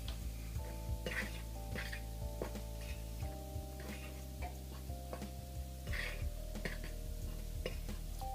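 Cake batter for a raspberry tres leches cake is hand-stirred in a bowl, giving quiet, repeated scraping and ticking strokes in a steady rhythm over a constant low hum.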